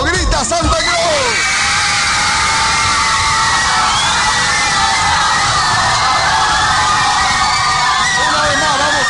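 Fans at a TVXQ and JYJ event in Bolivia roar "Santa Cruz" together, a dense, continuous wall of loud shouting and high-pitched cheering that holds for several seconds.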